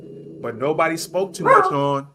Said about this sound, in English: excuse my dog there if y'all hear him in the background